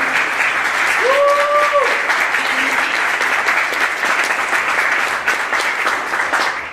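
Loud, dense audience applause and cheering at a harvest party honoring young and college Republicans, a sustained wash of clapping with a brief whoop early on.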